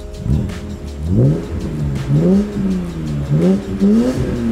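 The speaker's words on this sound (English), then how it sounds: "I'm gonna go ahead and rev it a few times so you guys can see the latency" A BMW car engine, from a roughly twenty-year-old model, revs up and settles several times in a row, the pitch rising and falling in distinct swells, close and loud with no talking.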